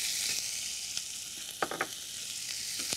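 Onions, chilies and cumin seeds fry in a hot pan, making a steady close sizzle broken by a few sharp pops and stirring taps.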